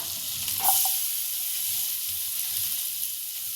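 Bay leaf and finely chopped onion sautéing in a pan for tomato soup, giving a continuous close sizzle with a brief clatter of stirring near the start.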